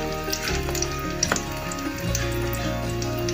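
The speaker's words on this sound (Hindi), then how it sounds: "जब रोटी शिफ्ट करते हैं तवे के ऊपर, फिर उसी तरह वेट करते हैं एक साइड से पकने का" Makki roti, a maize flour flatbread, cooking on a hot tawa griddle, giving a steady close sizzle and crackle with a few light scrapes and no talk.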